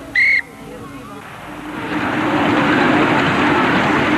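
A miniature railway train's short, shrill whistle toots once, followed by a building mechanical rumble of its small engine getting underway.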